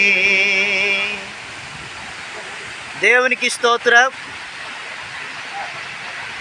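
The Attarupalli waterfall gives a steady, close broadband rush that never lets up. Singing sits over it at first, then a short stretch of speech.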